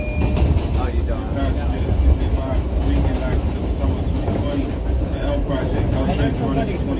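A New York City train rumbling along the rails with steady clattering and a dense low roar, while people talk over it.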